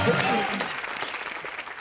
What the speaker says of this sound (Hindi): एक बार दीपिका, इरफान और सुजीत सरकार के लिए जोरदार तालियां।